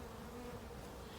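Bees hum at a beehive frame with brood comb and worker bees. The soft buzzing is steady and continuous, and no one talks over it.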